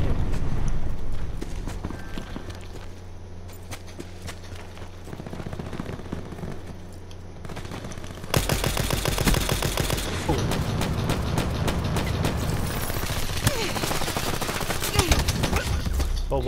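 Rapid bursts of automatic gunfire from Call of Duty Black Ops 4 in a free-for-all match, loud and dense, intensifying sharply about halfway through into sustained rattling fire, with a voice occasionally talking underneath.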